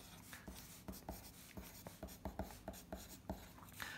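Chalk or marker strokes on a board during a chemistry lesson, a quick irregular run of short taps and scratches, close and clear with no talk over it.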